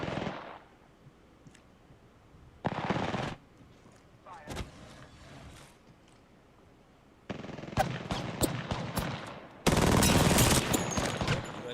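Video game gunfire comes as several separate loud bursts broken by quieter gaps, with sharp cracking shots close by and a longer rattling volley toward the end.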